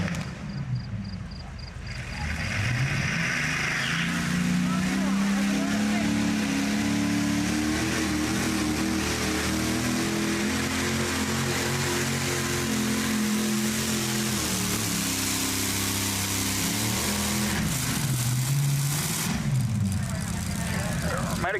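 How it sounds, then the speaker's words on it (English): A multi-engine pulling tractor, the old orange tractor at an FFA truck pull in Hillsboro, Ohio, with a suspected bad valve on the front motor's left bank, roars under load in a long sustained rising and falling engine howl, loud and close. "Sounded like he had a bad valve there on that left bank of that front motor."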